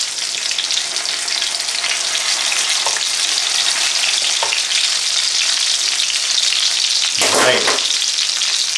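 Steady, loud sizzling of chicken frying in oil at 325 degrees, a continuous crackling hiss with a brief clatter near the end.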